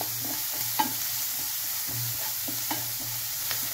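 Onions fry lightly in a pan with radish filling for paratha, a steady close sizzle with occasional soft stirring scrapes, no voices.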